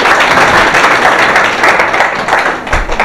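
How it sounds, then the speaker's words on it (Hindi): Crowd applause at a school spot-prize programme in Bhainsa, a dense, steady wash of many hands clapping throughout at fairly loud level, with a faint voice underneath. "आप उनकी हौसला अफजाई के लिए कम से कम तालियां तो बजा सकते हैं ना"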